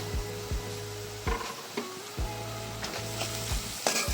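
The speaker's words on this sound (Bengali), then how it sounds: "ভালো করে নেড়ে চেড়ে আবার একটু কষিয়ে নেব" Onion, crushed garlic and two spoons of chili powder sizzle and fry steadily in a pan for a dried fish bharta, with repeated scraping stirs of a spoon cutting through the constant crackle.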